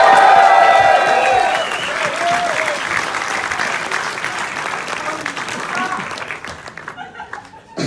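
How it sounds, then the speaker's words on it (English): A movie premiere crowd cheers and applauds for the director of SHAZAM!, starting loud with a few whoops and laughs, then thinning to scattered clapping near the end. A voice briefly rises out of the crowd noise. "Make some noise for the director, David F. Sandberg."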